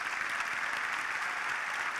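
Steady applause from a crowd at a university undergraduate commencement ceremony, dense and even, filling the whole stretch without a break.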